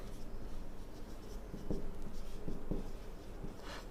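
Chalk or marker strokes on a board while a formula for pressure is written, a steady scratchy scrawl with a few sharper taps, close and fairly quiet, with no talking.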